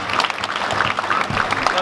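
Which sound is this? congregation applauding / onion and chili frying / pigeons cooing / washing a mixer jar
congregation applauding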